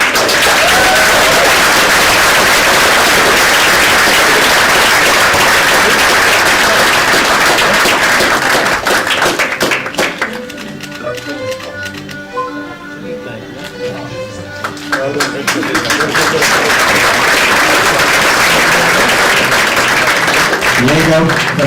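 Graduation ceremony audience applauding a graduate: sustained loud clapping from a large crowd that briefly drops away to quieter murmur and a few claps mid-way, then swells back to full applause.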